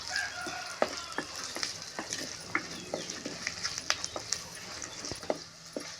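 Dried red chillies hit hot oil as the final tempering for munagaku pappu, a drumstick-leaf dal, giving a steady close sizzle scattered with sharp crackles and pops.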